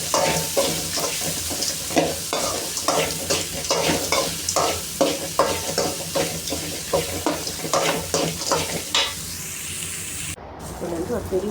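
Garlic, ginger, coriander and three chillies frying in a pan for banana flower chutney, with a steady sizzle broken by rhythmic scraping stirs roughly every half second, close and fairly loud.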